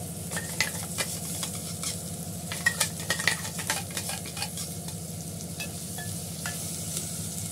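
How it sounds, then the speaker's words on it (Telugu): Coconut, ginger and onion paste frying in oil while being stirred, a steady close sizzle with scattered spatter pops and the scrape of a utensil against the pan. "ఈ కొబ్బరి కూడా వేసి నూనెలో వేగనివ్వాలి"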